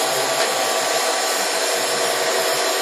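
A Warner & Swasey six-sided turret lathe running under power feed gives a steady, broadband machine whir with a low rumble that pulses irregularly. The sound is continuous and close, with no voices.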